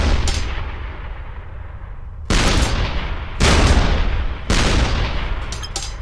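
A weapon fires in a video game: three heavy, booming shots, each with a sharp attack and a long rumbling decay, spaced about a second apart, loud and close, with no talking.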